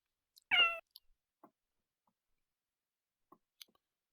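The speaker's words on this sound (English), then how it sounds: "I heard a cat" A cat gives one clear, close meow, followed by a few faint scattered clicks and taps in an otherwise quiet room.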